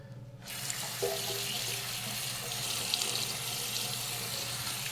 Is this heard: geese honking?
no